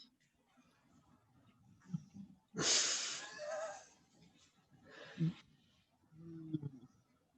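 A dog snores softly in a few breathy, snorting bursts separated by quiet pauses, close by, with a faint voice murmuring near the end.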